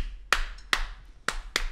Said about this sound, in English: You can clap it with me.